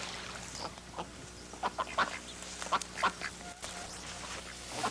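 Ducks quacking at a hunt, a few short bursts of calls clustered in the middle amid steady outdoor background noise, moderately distant.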